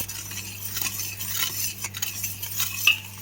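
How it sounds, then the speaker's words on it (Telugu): Cardamom powder being stirred into hot sugar syrup for Chandrakanthulu sweets, a spoon scraping and clinking steadily against a metal pot, close and moderately loud with a faint steady hum beneath. "ఈ పాకంలోనే మనం యాలకుల పౌడర్ వేసేసుకోవాలి. ఇలా ఉండలు రాకుండా నీట్గా పౌడర్ కలుపుకోవాలి."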